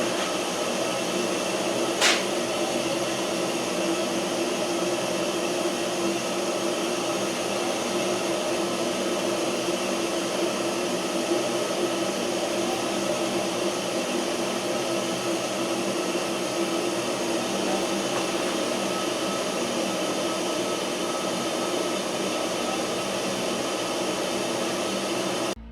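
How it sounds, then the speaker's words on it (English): Blower fan on a wood stove running steadily, a constant close whirring hum that holds unchanged throughout with no talk. "We got the blower working."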